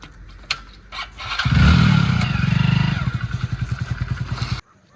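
A motorcycle is started nearby: a few clicks, then the engine catches with a surge and settles into a loud, even thumping idle until the sound cuts off abruptly.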